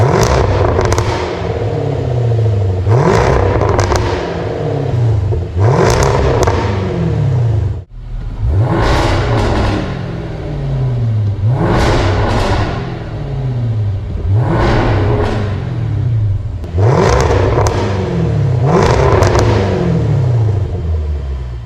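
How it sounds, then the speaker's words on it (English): Jaguar F-Type V8 with a QuickSilver mandrel-bent stainless sport exhaust, valves open and carbon tips, blipped again and again in loud, crackling revs with popping overrun between them, close and with no talk. "Now let's listen to what it sounds like with a QuickSilver Sound Architects system with unique carbon tips on the back"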